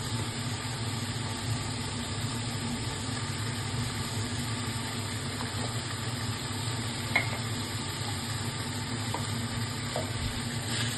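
Grated coconut and spices for a banana flower (mocha) curry frying in a pan, giving a steady, even hiss with a low hum underneath and a few faint clicks.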